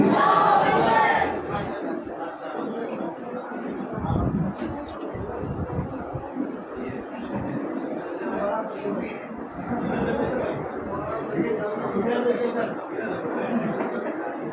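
At a madrasa prize-giving ceremony, a crowd answers the Takbir call with a loud collective shout, then settles into a sustained murmur of voices and chatter.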